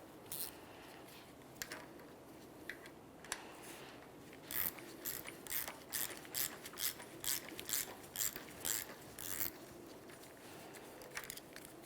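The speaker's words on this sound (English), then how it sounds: "Use a 14mm to remove the nut." A ratchet loosens the 14mm nut on a 2003-2007 Honda Accord rear shock absorber, its quick, close clicking coming in steady bursts over a faint background hum.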